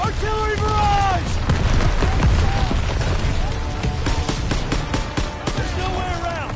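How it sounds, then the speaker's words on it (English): An artillery barrage and gunfire rumble in a World War II battle scene, with heavy booms and scattered shots filling the background while voices shout loudly over the din. "Get down! Artillery barrage!"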